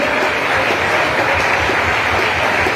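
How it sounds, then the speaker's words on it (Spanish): A church congregation claps together during an evening service, a loud, continuous wash of applause with no voices over it. "la iglesia puede dar un aplauso al que hizo esto por nosotros en la cruz del Calvario"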